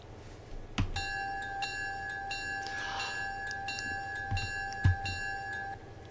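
Locomotive bell from an engine in the railroad simulation game Railroader, ringing in a steady rhythm of roughly one strike every half second to second, clear and sustained over a low rumble of the train.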